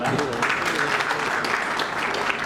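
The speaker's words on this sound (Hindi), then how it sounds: "आइए जोरदार तालियां" Audience applause at a regional meeting of Bharat Vikas Parishad held in a school hall: steady, dense clapping from a crowd, continuous and fairly loud for the whole stretch with no pauses.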